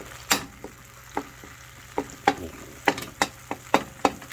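Panang curry paste being stir-fried in a pan for a Thai beef curry, with a low sizzle and a series of sharp scraping stir strokes repeating irregularly, close and moderately loud, with no talking.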